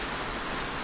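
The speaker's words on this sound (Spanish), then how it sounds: "La lluvia roja caía sobre su piel, pero no la tocaba." Heavy, constant rainfall hisses evenly as an effect in a horror story about witches and death, with no voices.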